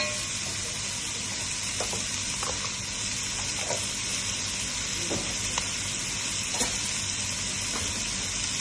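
Chopped onion and garlic sizzle steadily in a pot with pork and lamb for cassoulet, a continuous close hiss of frying broken by occasional faint clicks and stirring taps.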